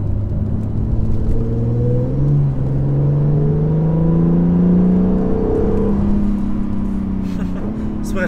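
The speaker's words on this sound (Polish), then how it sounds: "Słychać turbiny. Pracują. Syczą, że tak powiem." A Honda NSX with a 3.5-litre twin-turbo V6 accelerates hard. Its engine note climbs steadily in pitch, then drops on a gear change, with a soft turbo hiss and whir riding over the close cabin rumble.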